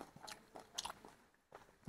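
Crisp bites into hot, crunchy homemade village-style KFC fried chicken, a few sharp crunches and chewing close to the mic, fairly quiet, with no talk.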